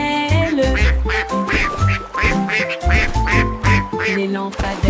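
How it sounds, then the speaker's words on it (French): Cartoonish duck quacks repeat in a rapid, rhythmic run over bouncy musical accompaniment in a French children's song, loud and close throughout. "Tous les canards cancanaient et battaient des ailes."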